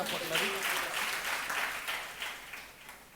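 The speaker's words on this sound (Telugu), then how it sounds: "ఇంకోసారి గట్టిగా చప్పట్లు" A short burst of crowd applause at a Sunday church service, steady and moderately loud, with voices mixed in under the clapping.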